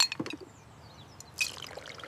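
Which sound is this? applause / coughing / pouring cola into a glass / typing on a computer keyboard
pouring cola into a glass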